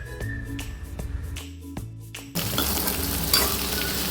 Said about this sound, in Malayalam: ഓയിലൊഴിച്ച് വെണ്ടയ്ക്ക ഒന്ന് വാട്ടിയെടുക്കാം.